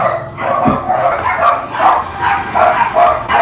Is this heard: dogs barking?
yes